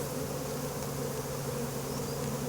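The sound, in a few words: swarm of honeybees buzzing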